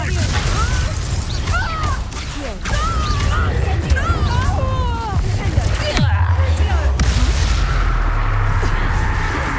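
Confringo blasting curse in the Hogwarts Legacy video game, heavy booming explosive impacts and crashing bursts amid game music and character voices calling out during combat.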